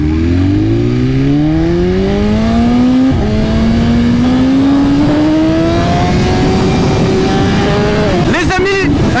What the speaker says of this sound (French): on va aller rouler R1 versus S1000RR